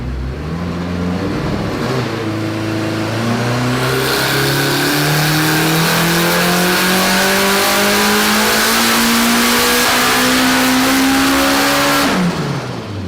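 A Toyota 2AR-based 2.7-litre four-cylinder with a 1AR crank, in a 1,000 hp rear-wheel-drive Corolla on boost and nitrous, revs hard and climbs steadily in pitch for about ten seconds, loud and close, then cuts off abruptly.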